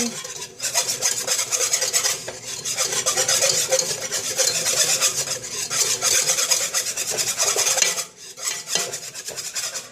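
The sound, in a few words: whisking unflavored gelatin into a pot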